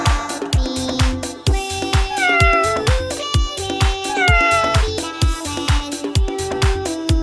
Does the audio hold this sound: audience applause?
no